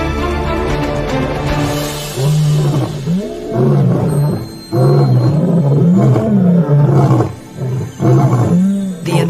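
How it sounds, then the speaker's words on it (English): Two eight-year-old male lions of a pride roar in the wild: loud, deep, rhythmic roars in repeated swelling bursts with short grunting breaks between them, close and powerful. "The NSEFU brothers roar a warning to all."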